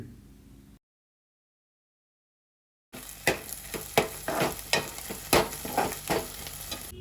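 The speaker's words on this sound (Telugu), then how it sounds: "అల్లం వెల్లుల్లి పేస్ట్ వేసుకుని బాగా తిప్పుకోండి" Onions, green chillies and ginger garlic paste sizzle in hot oil while being stirred, with repeated scraping strokes after a silent gap, for an egg and dried prawn curry.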